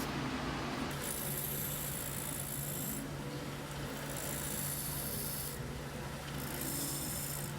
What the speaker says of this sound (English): I'm just grinding out the forge marks on the surface there